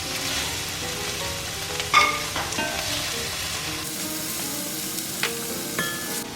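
Bicol Express frying in a pan as ginger is stirred in, a steady close sizzle with scraping stirs and a few sharp utensil clinks against the pan, no voices.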